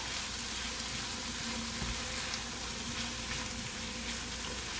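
Drained rice hitting a hot frying pan gives off a loud, steady sizzle, a dense close hiss with faint stirring scrapes and no voices.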